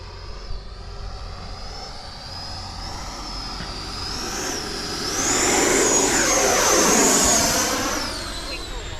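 An E-flite Viper 90mm electric ducted fan RC jet flies low past, its steady high-pitched whine and rush swelling loudly as it nears and then fading away.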